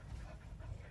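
Dogs pant inside a parked van, a close, rhythmic breathy panting over a low rumbling background.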